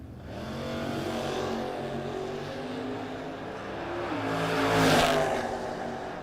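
Pair of drag race cars in round six of a no-box 660 shootout launching and accelerating down the track, a rising engine roar that builds, dips, then swells again toward a loud peak.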